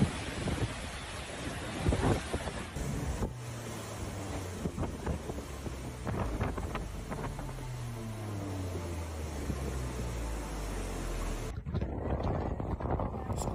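Category 5 hurricane Otis in Mexico bringing heavy rain and thunder: a steady roar of rain and wind with deep rolling thunder rumbles building in the middle, continuous and loud, no voices.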